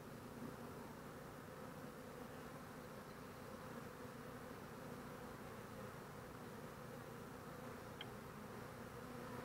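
Honeybees stirred up by a hive frame being shaken fill the air with a dense, steady buzzing hum, close and continuous with no voices.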